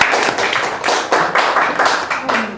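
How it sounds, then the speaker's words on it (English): An audience applauds a presenter at an evening cooking demo, a dense, steady patter of clapping hands that swells in several waves over a couple of seconds, with no talking. "So let's give her a round of applause"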